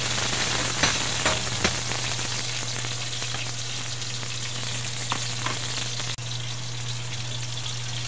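Sautéed mussels (ginisang tahong) with ginger sizzle steadily in a hot pan as they are stirred, with a few faint scraping clicks breaking through the constant frying hiss.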